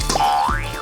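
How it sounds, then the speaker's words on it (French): A cartoonish springy boing from a slime or toy bouncy ball bouncing, a single rising-and-falling wobble lasting under a second, loud and clear with no talk over it. "Ça rebondit autant?"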